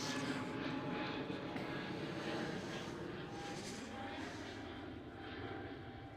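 An Air Baltic airliner in Lithuanian flag livery departs runway 18 Left at Amsterdam Schiphol, its engines a loud, steady broadband roar that holds throughout and eases slightly toward the end.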